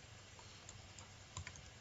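Faint, soft keystrokes on a computer keyboard, a few scattered light taps over low background hiss.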